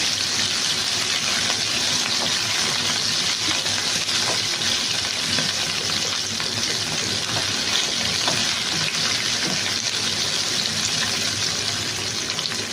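Onions and other chicken pulao ingredients fry lightly in a pan, giving a continuous, even sizzling hiss that holds steady and fairly loud throughout without a break.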